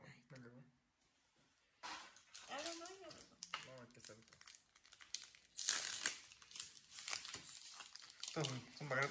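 Plastic wrappers of Digimon card booster packs crinkle and rustle in bursts as they are handled and opened, with people talking throughout.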